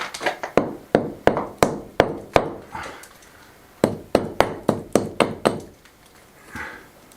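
Hammer tapping stones in an old stone wall while a new window is installed, two runs of sharp, evenly spaced knocks, about a dozen each, close and loud with a short pause between.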